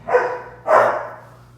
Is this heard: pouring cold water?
no